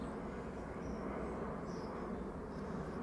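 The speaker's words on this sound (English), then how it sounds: "I just picked the time to come out when the airplanes are coming into Metro." Airplanes fly overhead on approach to Metro airport, a steady broad distant roar droning continuously over an outdoor garden with no voices.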